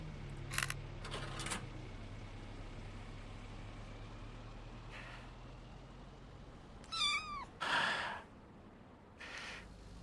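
A cat in the video game 1998: The Toll Keeper Story meows once in a short wavering call, followed by a soft breathy snort over a steady background hum.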